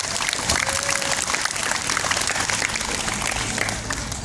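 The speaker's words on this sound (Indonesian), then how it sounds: "tepuk tangan dong" A school audience claps together at an earthquake emergency-response session at SMPN 1 in South Tangerang, a loud, dense wash of hands that holds steady and close throughout.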